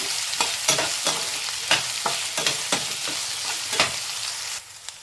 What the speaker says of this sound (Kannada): ಈಗ ನಾವು ಕಟ್ ಮಾಡಿ ಇಟ್ಕೊಂಡಿರೋ ಬೆಂಡೆಕಾಯಿನ ಸೇರಿಸ್ಕೊಂಡು ಸ್ವಲ್ಪ ಒಂದು 5 ನಿಮಿಷ ಚೆನ್ನಾಗಿ ಬೇಯಿಸ್ಕೊಳ್ಳೋಣ. ಫ್ರೈ ಮಾಡ್ಕೋಬೇಕು ಆಯಿಲಲ್ಲೇ ನೀಟಾಗಿ.